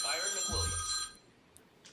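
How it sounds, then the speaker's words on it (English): A mobile phone rings during a panel discussion, a bright electronic ringtone that is fairly loud for about a second before cutting off, with voices briefly audible underneath and after it. "I forgot to put my phone on silent."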